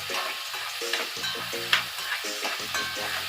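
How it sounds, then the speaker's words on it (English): Vegetables for ackee and saltfish fry in hot oil in a pot while being stirred, a steady close sizzle broken by repeated scraping stirs, with no talking. "Always keep it stirred so it doesn't burn."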